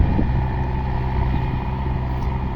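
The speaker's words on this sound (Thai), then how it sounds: "รถไถใหญ่ได้เปรียบด้วยพี่น้องไถแบบนี้นะครับ" A large tractor plowing a rice field gives off a steady, low, rumbling engine drone at close range, with no talk over it.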